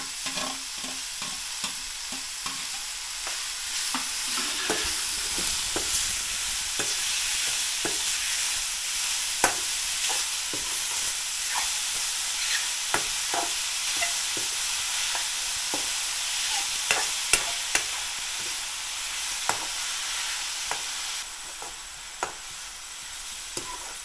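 Mushroom curry sizzling in a pan with garam masala added, a spoon scraping and stirring in an irregular rhythm over a steady close frying hiss, with no voices.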